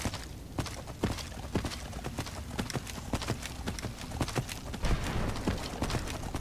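Hooves of Arvak, the skeletal horse in Skyrim, being ridden: a brisk, regular clip-clop of sharp hoof strikes at a steady walking-to-trotting pace, fairly close and clear, with no talking.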